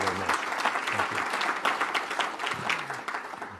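Audience applause fills a conference hall at the Aspen event, a dense steady clapping from a large crowd lasting a few seconds, with faint voices mixed underneath.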